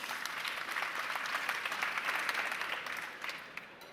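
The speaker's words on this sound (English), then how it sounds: "I don't know if you want to give them a super quick clap for" A conference audience at the Blue Earth Summit claps for a panel in a dense, steady burst of applause. It holds for a few seconds, then thins and fades toward the end.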